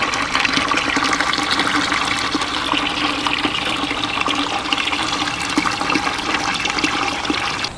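Water troughs on a homestead filling up, a steady, close rushing and gushing of water that runs without a break.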